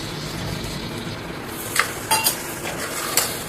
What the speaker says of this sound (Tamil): தயிர் விடுறேங்க